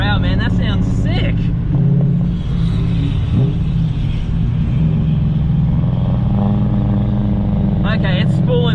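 The turbocharged, HTE-tuned V8 BMW M5 spools up with a loud, close, sustained engine drone and rising tones, while someone talks over it at the start and end.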